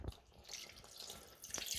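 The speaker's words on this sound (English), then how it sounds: "And then the next thing we need to add is some cold water" Cold water, about 200 ml, is poured into a pan of madras curry, giving a soft splashing, trickling sound with a few brief bursts, faint and close, with no talk.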